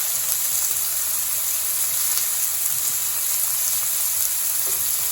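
Chicken bharta fries in a pan while being stirred, giving a loud, steady, close sizzle that hisses evenly throughout, with a few faint scrapes from the stirring.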